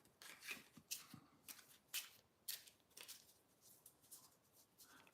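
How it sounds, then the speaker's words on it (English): Tarot cards being shuffled by hand, a series of quick riffling and sliding bursts with soft taps between them, close and fairly quiet, with no talking. "I'm shuffling the cards for Thomas Jordan here"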